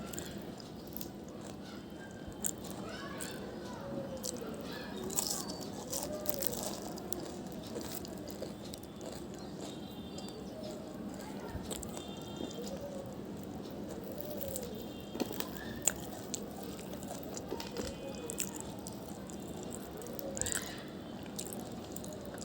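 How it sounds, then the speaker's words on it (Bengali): Someone bites into and chews a fried puri filled with mashed potato and dried chilli, producing soft, repeated squishy chewing sounds with occasional faint crunches, close and quiet. "একটা পুরি খাই।"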